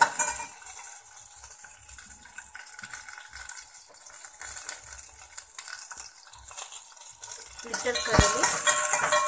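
Garlic, red chillies and curry leaves frying in a little oil, a soft crackling sizzle with scraping stirs and occasional utensil clinks, growing busier toward the end, with a brief spoken phrase.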